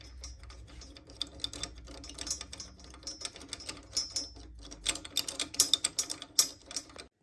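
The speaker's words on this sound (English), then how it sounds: "now you want to screw this piece back on to the shaft" Threading a part onto the shaft of a Chamberlain MyQ belt-drive garage door opener, a series of close, irregular mechanical clicks and ratcheting ticks that grow busier toward the end, with no talking.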